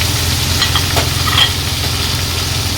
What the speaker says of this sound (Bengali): কড়ার গায়ে খুব ভালোভাবে আমি গরম তেলটা লাগিয়ে নিচ্ছি এই সময় আমি তিনটে মাছ দিলাম